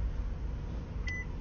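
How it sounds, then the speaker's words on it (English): A single short electronic warning beep sounds from a car shifted into reverse, heard once over a low background hum. "it's beeping like that because the car's in reverse"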